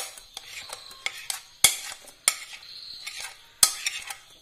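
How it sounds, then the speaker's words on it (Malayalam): Mashed ripe jackfruit stirred into hot jaggery syrup in a pan for payasam, with thick wet scraping swirls broken by sharp clinks of the spoon against the pan, close and steady. "ഇപ്പൊ നമ്മള് ശർക്കര പാനിക്കകത്തിട്ടിട്ട് ചക്കപ്പഴം നല്ലതുപോലെ ഒന്ന് ഇളക്കി"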